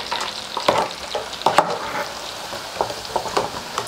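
Vegetables and onions fry in a pan, soft sizzling broken by the scrape and clatter of stirring at an uneven pace, close and alone.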